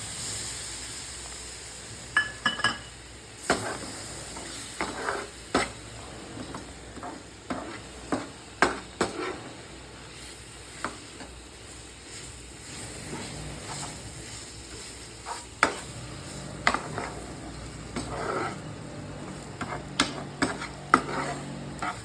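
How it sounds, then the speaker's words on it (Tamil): A spoon scrapes and stirs malai into a rava barfi mixture in a pan, with a soft steady sizzle underneath and irregular clinks and scrapes repeating throughout at close range. "இப்போ இதில் இந்த மலாயை ஆட் பண்ணிக்கிறேன்."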